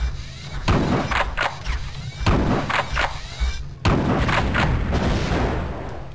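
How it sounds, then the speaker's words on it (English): Repeated shotgun blasts in the video game Terminator: Future Shock, several heavy booming thuds at irregular intervals, loud and close, one sharp hit near the middle. "What is this shotgun loaded with?"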